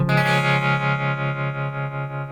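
A distorted electric guitar chord through a tremolo pedal rings out and sustains, its volume pulsing in a steady, even throb as it slowly fades.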